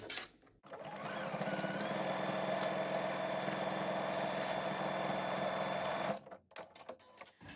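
Sewing machine stitching fabric lining, a quiet close steady whirring run of about five seconds that starts and stops abruptly, with faint handling noises around it.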